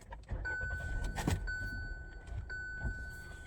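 A Hyundai i10 is started and backed inside, with a low engine rumble, a thump of the start, scattered clicks and a high electronic chime ringing intermittently.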